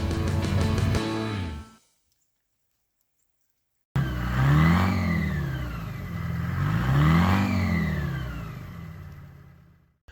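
A truck with a 4-cylinder Detroit engine and 2.5-ton Rockwell top loader axles idles then revs up and down twice after a brief silent gap, the engine rising and falling in pitch close by.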